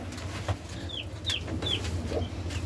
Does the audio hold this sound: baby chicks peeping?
yes